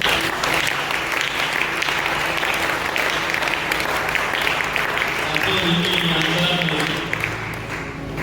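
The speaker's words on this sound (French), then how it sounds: "Je croyais que tu allais acclamer très fort." Sustained applause from a church audience at a Baptist youth seminar, loud and steady throughout with a broad wash of clapping and some voices mixed in, tapering slightly near the end.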